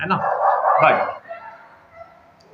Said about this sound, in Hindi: बाहर कुत्तों की लड़ाई हो गई